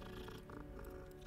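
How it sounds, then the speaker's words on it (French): Cat purring in the video game Hogwarts Legacy, a steady low rumbling purr that holds for about a second, close and continuous with no talk over it. "Ah mais c'est le chat !"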